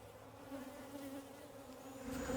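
Steady insect buzzing from many bees around a hive, a continuous droning hum that grows slightly louder toward the end.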